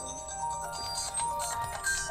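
Phone ringtone playing amid a casual chat: a tonal melodic ring runs steadily through the whole stretch, moderately loud and close, with no speech over it.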